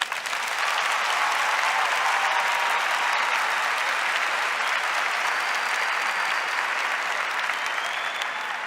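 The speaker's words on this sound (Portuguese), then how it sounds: "Aplauda esse testemunho." A large audience at a church event applauds steadily and loudly for a testimony, a dense sustained roar of many hands clapping with no talk over it.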